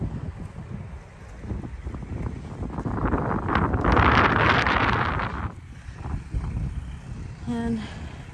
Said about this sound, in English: that wind is cold this morning